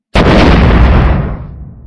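Loud explosion sound effect with a sudden broadband blast that rolls into a long rumbling decay, used in a Mothership tabletop role-play scene of a flame blast filling a corridor; no voices.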